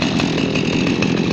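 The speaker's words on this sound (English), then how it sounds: "Ah, the sound of chainsaws warming in the morning" Chainsaws idle and run steadily as they warm up on a morning woodcutting site before cutting oak, a loud continuous buzzing engine drone with slight rhythmic pulsing and no talking.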